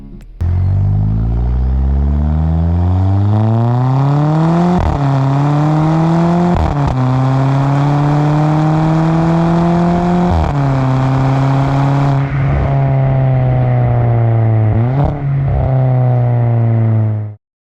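A VW Polo GT 1.2 TSI DSG with a custom full-system exhaust accelerates hard, its loud, close engine note climbing in pitch and then dropping at each of several quick gear changes, with no voices present.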